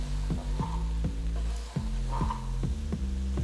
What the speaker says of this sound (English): Add the chopped palak leaves to the potatoes and mix everything well.